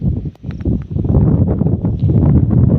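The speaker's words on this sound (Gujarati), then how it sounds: "પવન નો અવાજ આવતો" Loud, rough buffeting of wind against a phone microphone in an open farm field, a continuous low rumbling roar with no voices.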